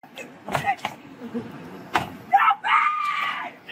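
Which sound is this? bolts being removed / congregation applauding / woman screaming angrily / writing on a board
woman screaming angrily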